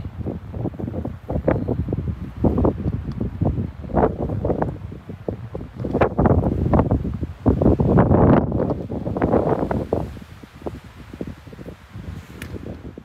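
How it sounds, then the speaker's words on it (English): Strong gusty wind on a hike up Rumford Whitecap buffets the microphone in heavy, uneven roaring bursts throughout, with no voices. "very windy."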